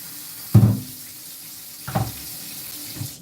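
Tap water runs into a cooking pot being filled for boiling pasta in a home kitchen, a steady close stream with a few louder splashing bursts as the pot shifts under the faucet, no talking.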